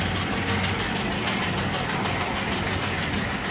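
A Sri Lankan coastal train running on the line toward Colombo, heard from on board as a loud, steady rumble with rhythmic clickety-clack of wheels over rail joints, continuous and close, no talking.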